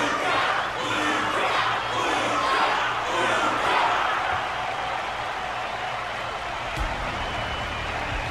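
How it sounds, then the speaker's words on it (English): Crowd in Honkai Star Rail applauding and cheering for a fighter, a dense sustained roar of voices and clapping that eases slightly toward the end. "Their constant applause is a salute to this resilient Belabogian fighter."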